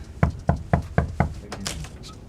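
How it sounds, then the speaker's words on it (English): Five firm, evenly spaced knocks on a house door, close and loud, followed by fainter scuffing and shuffling. "they didn't have a call box or anything, so we got to resort to knocking."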